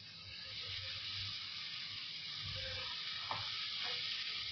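Soaked chana dal tipped into a hot pan of oil for a cabbage curry, giving a steady, close sizzle and hiss with a few faint stirring clicks, no talking.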